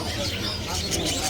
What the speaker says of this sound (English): So many birds of different kinds are displayed here.